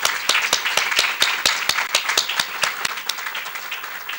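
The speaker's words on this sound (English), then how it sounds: "Let's just give one more round of applause for all of the award recipients tonight" Applause for award recipients at a school board meeting, a small group's clapping with individual sharp claps standing out, fairly close and gradually thinning out.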